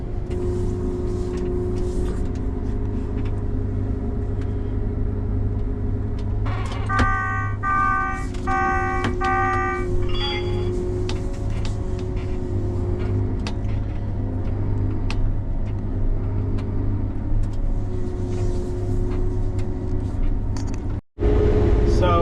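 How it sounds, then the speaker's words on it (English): A combine harvester cutting beans runs as a steady, loud engine drone with deep low rumble, joined midway by a rising whine and brief rattling tones before settling back into the continuous hum. "we are actually back up in this combine now. So we've got an empty truck coming out here, and we're gonna go ahead and start running some beans"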